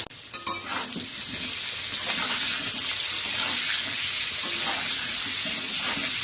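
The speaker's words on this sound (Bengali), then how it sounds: "আলুটা নুন দিয়ে হলুদ দিয়ে ভাজলে কি হয়" Potatoes with salt and turmeric hit hot oil and fry in a loud, continuous sizzle after a few sharp clatters at the start, close by and alone.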